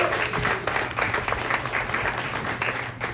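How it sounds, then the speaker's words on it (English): An audience at a live comedy show applauds, moderately loud clapping mixed with crowd noise and a low hum, continuing for a few seconds. "can we give a big round of applause for Billy for hosting tonight?"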